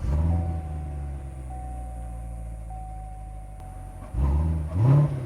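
A 2019 Corvette C7 1LT with a 6.2-liter V8 idles in a deep steady rumble, then revs twice in quick swells near the end, heard close and alone.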